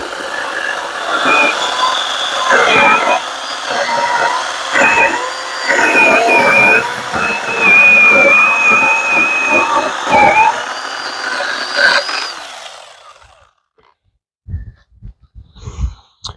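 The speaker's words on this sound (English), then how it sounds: "just get our chainsaw going here." A mini chainsaw cuts through a 4x4 wooden post: a loud, close, whining motor buzz with pitch wavering as the chain bites the wood, running for about twelve seconds before cutting off, followed by a few faint knocks.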